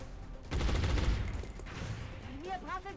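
Gunfire in the XCOM Long War video game, a dense burst of rapid shots lasting about a second, followed by a lingering rumble and faint electronic tones.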